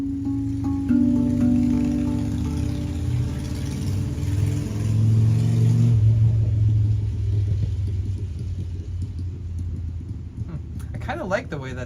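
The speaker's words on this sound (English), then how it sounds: "I kind of like the way that motorcycle sounds, actually." Motorcycle engine on a street in Los Angeles, rumbling and revving as it passes, loud at first and then fading after the midpoint under steady tonal music.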